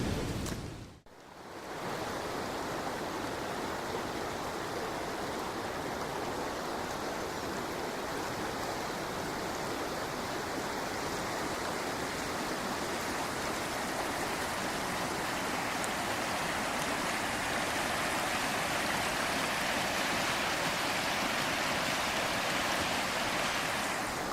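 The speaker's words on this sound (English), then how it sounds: "Still hanging out above the falls." A waterfall and river on the Wynoochee rush in a steady, dense roar of flowing water that fills the whole stretch, close and constant, with no voices.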